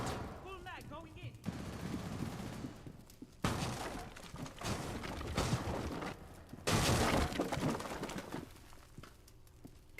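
Sustained bursts of automatic gunfire from a full magazine in the mobile shooter Rainbow Six Mobile, loud and close, coming in several long rattling volleys with brief gaps between them.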